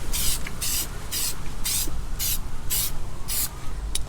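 A spray can lays a light dusting of Plasti Dip onto a truck exhaust tip in about eight short, evenly spaced hissing bursts, each lasting roughly a third of a second, over faint background noise.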